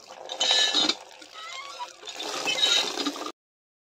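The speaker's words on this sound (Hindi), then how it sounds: "अभी यहाँ पे पानी भरेंगे।" Water runs from a tap into a bucket, a steady splashing flow in two bursts with a short quieter gap between them.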